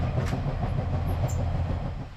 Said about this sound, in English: the suspension of the old pacer is definitely having trouble.